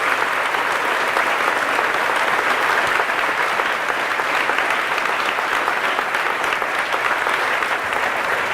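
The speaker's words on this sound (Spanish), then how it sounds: "Fuerte el aplauso a la palabra de Dios." A church congregation at a religious retreat gives loud, sustained applause, a dense unbroken wash of many hands clapping evenly for several seconds without talk.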